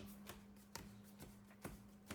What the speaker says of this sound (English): I'll typically give it a shuffle.